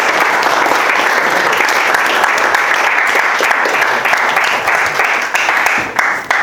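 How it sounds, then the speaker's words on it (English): Wedding guests give a loud, sustained round of applause, dense clapping filling the room from start to finish and fading slightly near the end. "we're going to have another round of applause for the people who aren't here today"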